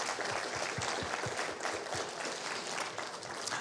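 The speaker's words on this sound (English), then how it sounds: "So please join me in a round of applause for them." A church congregation applauds its AIDS Life Cycle team, a dense, steady patter of many hands clapping at moderate distance, continuing evenly throughout with a few sharper claps near the start.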